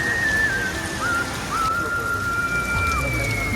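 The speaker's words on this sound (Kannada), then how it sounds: "ಈ ಥರ ಮಳೆ ಬಂದರೆ ಏನು ಮಾಡೋದು?" Steady rain falls in Bangalore with a constant dense hiss, close and fairly loud, while someone whistles a wavering tune over it.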